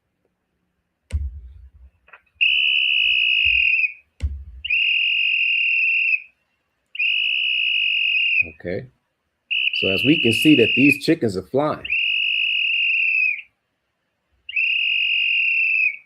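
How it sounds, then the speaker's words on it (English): A whistle blown to call trained chickens for feeding gives long, steady, shrill blasts, repeated about six times with short gaps, while a person talks over the sound and low thumps occur early on. "when he blows the whistle, they know it's feeding time"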